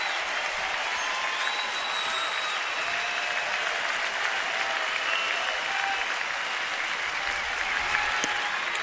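A baseball crowd cheers and applauds for the Washington Nationals at a home game against San Diego, a dense, loud, continuous wash of clapping and cheering that holds steady for about nine seconds with no voice on top.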